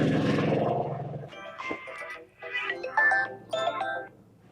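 A simulated phone ring on a call, a synthetic warbling tone in short bursts sounding three or four times after a brief stretch of voices, fairly close and moderately loud.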